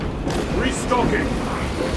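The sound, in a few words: restocking ammunition in video game Warhammer 40K Space Marine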